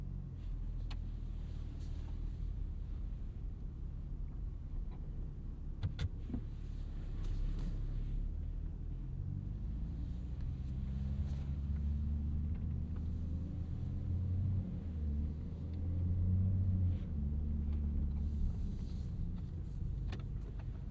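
Low, steady rumble inside a moving 2025 Audi SQ5 turbo V6 SUV at night, with road hum and occasional faint clicks and rattles, no voices.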